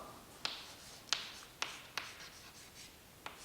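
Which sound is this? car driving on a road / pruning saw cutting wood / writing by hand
writing by hand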